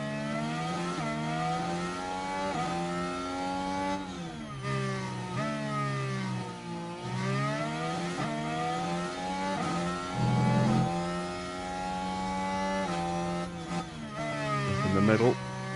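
A Formula 1 car engine in F1 Manager 23 winds up through repeated rising pitch sweeps between gear changes, a loud, continuous whine that holds up throughout, with a commentator-style voice talking over it.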